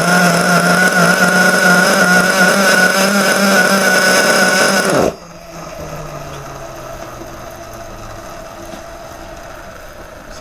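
A T2M 3.5cc nitro RC engine runs loud with a buzzing, harmonic-rich whine for about five seconds, then cuts off abruptly, leaving faint background noise and a low fading tone.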